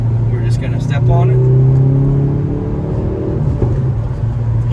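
A Hyundai Veloster N accelerates hard at around 40 mph to pass another car, its engine droning and rising in pitch, then easing off as road rumble continues, heard from inside the cabin with someone speaking early on.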